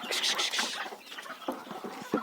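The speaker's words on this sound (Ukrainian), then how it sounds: "Пітухи позаходили. Так, кш -кш -кш -кш. Вийшли, вийшли звідси." Several roosters and a small black hen cluck and squawk at close range while being shooed back into their coop, with busy overlapping calls and a few louder bursts.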